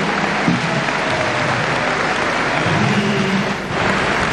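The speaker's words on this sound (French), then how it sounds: "Le professeur Marito Niane, sous vos applaudissements s'il vous plaît, encore." Applause from the audience at a public ceremony in Senegal, a steady dense wash of clapping at close range, loud and continuous with a low hum beneath it.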